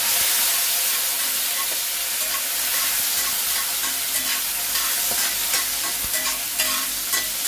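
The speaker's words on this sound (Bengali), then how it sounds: "এবার এই মটরশুঁটিগুলো মধ্যে দিয়ে দেবো।" Potatoes and green peas fry in a pan with a steady, close sizzle and hiss, broken by the scrape of stirring, with no voices throughout.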